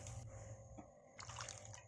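Squeezed coconut milk poured into a Kerala-style ayala (mackerel) fish curry, a faint, soft trickle and drip with quiet pauses, ending in a sharp clink.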